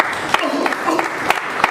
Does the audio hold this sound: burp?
no